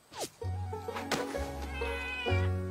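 Cartoon cats from an animated pony series meow several times, with drawn-out, wavering calls close up over a soft musical backdrop.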